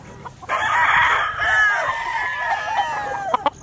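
Golden boy sweater gamefowl rooster at a Batangas gamefarm crowing loudly and close, one long drawn-out crow followed by a few short clucks.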